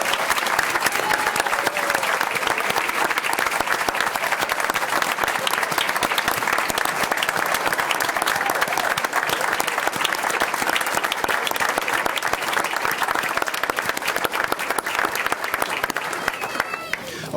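A room of attendees at a board meeting applauds November 2019 Employee Excellence Award recipients, loud, dense sustained clapping that continues steadily for about seventeen seconds before tapering slightly at the end.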